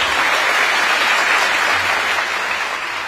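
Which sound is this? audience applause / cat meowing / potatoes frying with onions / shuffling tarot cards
audience applause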